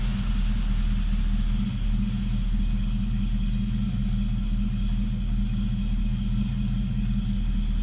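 A Jensen Interceptor engine idles steadily and evenly throughout, a continuous low rumble close by with no starting crank evident.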